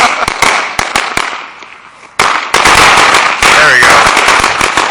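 Fireworks with a long green center fuse going off at New Year's, loud close firecracker bursts and crackling in rapid irregular volleys, with people exclaiming between the blasts.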